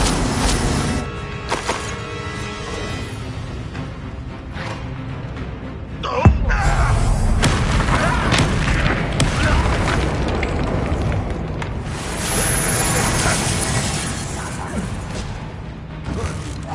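An Incendio fire spell is cast in Hogwarts Legacy amid loud, dense combat effects, with a sharp burst partway through followed by a sustained roaring, whooshing fire-like rush and further booms.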